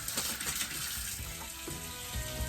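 Water gushing from an RV faucet after a pump repair, a steady, loud, broadband rush of running water filling the whole short moment.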